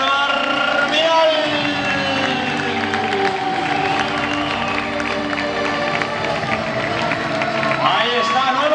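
A crowd at a boxing club celebration applauds and cheers for boxer Marc Vidal, the new Spanish featherweight champion, as he steps into the ring; sustained clapping and shouts fill the whole stretch, with voices mixed in.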